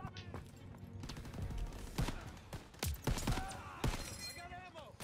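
Machine-gun fire from a German MG position in a hayloft during a Call of Duty WW2 campaign battle: rapid overlapping gunshot bursts and shattering impacts, with shouted voices over the din.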